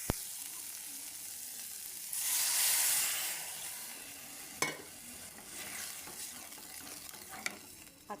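Water poured into a pan of frying drumstick masala in a Goan home kitchen, bursting into a loud hiss that swells and fades, followed by gentle steady sizzling with a few sharp clicks of a utensil against the pan.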